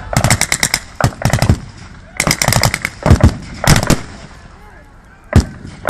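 Rapid bursts of German machine gun fire rattle in repeated volleys, loud and close, with short gaps between strings of shots and a final sharp report.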